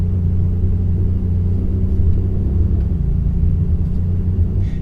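Ferrari F430 engine held running with the throttle pressed so it won't stall, a car with a gear engagement fault; a loud, steady low rumble close by with no voices.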